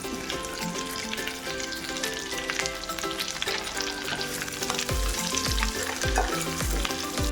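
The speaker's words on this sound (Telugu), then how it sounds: "ఇప్పుడు ఇందులో పచ్చిమిర్చిని అయితే వేసేసుకోండి. అలాగే ఉల్లిపాయ ముక్కలను కూడా వేసుకోండి." Green chillies and onion pieces fry in hot oil in a pan for moringa leaf soup, giving a steady loud sizzle with occasional stirring scrapes and thuds toward the end.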